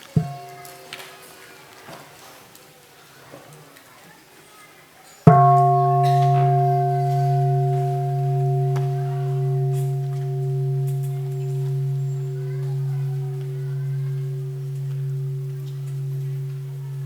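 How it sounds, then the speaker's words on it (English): A mindfulness bell is struck once after a soft small tap, ringing out into a deep, sustained tone with a slow wavering hum that fades gradually over many seconds in a quiet room. "we will enjoy one sound of the bell"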